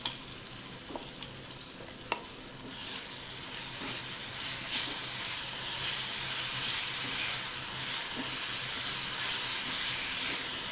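A coarse green chili paste, together with raw mango, sautés in a pan over low gas, a soft steady sizzle and hiss that grows louder after a few clicks and stirring scrapes, with no talking.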